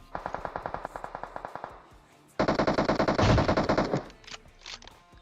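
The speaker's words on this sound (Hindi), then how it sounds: "वो लोग आगे गोली गोली चला रहे हैं" Automatic gunfire in PUBG Mobile: a rapid burst of evenly spaced shots, a short pause, then a louder, denser burst of firing, close and dominant with no talk.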